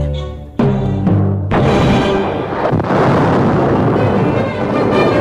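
Dynamite blast: a sharp explosion bursts out and rolls into a long, loud, sustained rumble with no talking.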